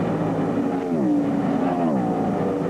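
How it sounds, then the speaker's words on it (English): A NASCAR stock car at the 2005 Coca-Cola 600 runs with a cracked header, giving a steady, loud engine drone whose pitch sways up and down throughout. "Just watching the car run and listening to it, it makes me think it's got a cracked header."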